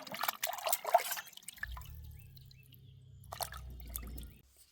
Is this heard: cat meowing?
no